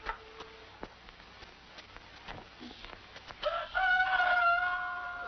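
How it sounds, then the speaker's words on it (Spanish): A rooster crows once, loud and drawn out, after a stretch of faint background noise and scattered small clicks. "El último canto del gallo madrugador era nuestra propia voz de aliento"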